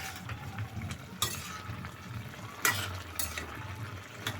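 Drumstick and stalk chorchori sizzles gently in a pan while a spatula stirs it, giving several sharp scraping strokes against the metal over a low, soft frying hiss.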